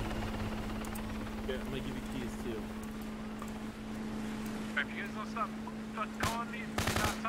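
Gunfire from the military shooter Arma 3 during a roleplay session, with sustained machine-gun-style bursts and helicopter-like drone running throughout and several sharper shots near the end, mixed under speech.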